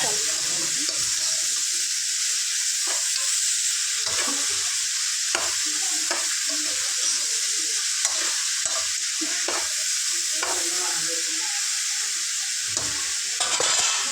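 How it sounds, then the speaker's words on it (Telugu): Cleaned bottle gourd pieces are added to a hot pan of fried dried prawns and stirred, giving a steady close sizzle with repeated scraping stirs and occasional clinks of the spoon on the pan. "క్లీన్ చేసి పెట్టుకున్న సొరకాయలు వేసుకుందాం ఫ్రెండ్స్"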